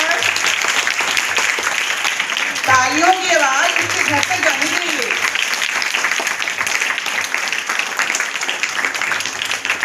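A schoolroom audience of children claps steadily for a class 5 prize winner at an Atal Smriti Varsh event; a dense, continuous patter runs throughout, with a voice briefly speaking over it near the middle.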